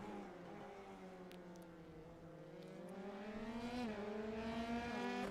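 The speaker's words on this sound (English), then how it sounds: "You can hear the 2 engines in sync as they both stand on the power at the same time." Two F3 race car engines in a sim racing game accelerate together on the Circuit of the Americas, twin rising engine notes climbing and shifting in pitch, steady and moderately loud, with a brief gear change dip.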